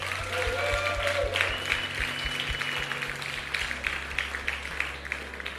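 A church congregation at a Sunday service applauds, with crowded, fairly soft clapping spread through the hall over a low steady hum and occasional thumps, fading slightly toward the end.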